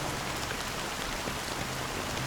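Steady rain in the Honkai: Star Rail video game, a dense, continuous hiss of drops falling on surfaces, even and unbroken throughout with no voices.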